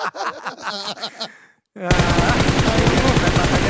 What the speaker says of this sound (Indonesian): Tembakannya sakit banget Eldoge